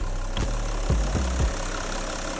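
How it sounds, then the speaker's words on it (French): Audi 3-litre V6 TDI diesel engine idling just after start-up, a steady low rumble with a few knocking pulses, close by with no talk. "on est sur un moteur 3 litres V6 TDI, hein, c'est ni plus ni moins le 3 litres de chez Audi"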